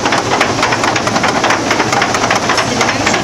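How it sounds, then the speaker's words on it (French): A water-driven mechanical flour sifter runs inside a Cistercian mill, making a loud, steady, dense mechanical rattle and rush with a fast repeating shake, close by and unbroken throughout. "Là, c'est le tamis mécanique."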